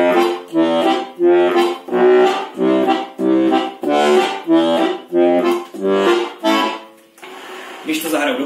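A Czech heligonka button accordion with nine basses plays a slow melody of separate, evenly spaced chords, each swelling and pausing briefly, close and clear.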